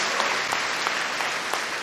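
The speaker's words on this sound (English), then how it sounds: "Look at that clap for the dog." An arena audience claps steadily for a dog after a large-class international agility final round at Crufts 2019, a dense, even wash of applause with no voices over it.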